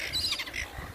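Wild seagulls squawk while being fed, with a brief, fairly loud and close harsh call cutting through outdoor background noise.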